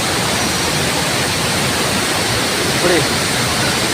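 Sathodi waterfall near Yellapur in Karnataka roars as a loud, close, continuous rush of falling water that fills the whole clip, with no pauses.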